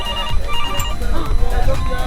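A macaw mimics a phone ringtone in a park, repeating electronic-style tones amid loud outdoor noise, with people talking throughout.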